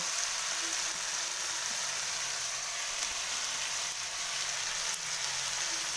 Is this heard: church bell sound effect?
no